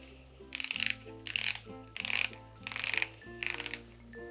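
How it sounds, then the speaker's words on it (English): Close, crisp ratcheting comes from a dial being turned to tighten a brace strap. It arrives in five short bursts of rapid clicking separated by brief pauses, with no talking. "that just tightens it to wherever you want this strap tightened"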